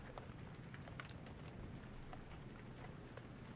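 Steady rain falls in the video game Pyre, a dense continuous patter with scattered drop ticks, low and even throughout with no voices.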